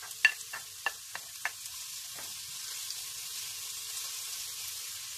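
Garlic and ginger frying in hot cooking oil in a pan for low-carb chicken curry, starting with a few sharp clicks and pops, then settling into a steady, faint, hissing sizzle, with no talk.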